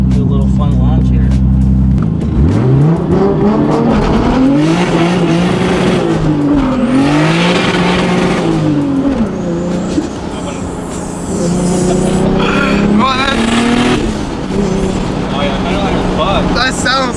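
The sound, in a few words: big turbo 2JZ Toyota Supra launching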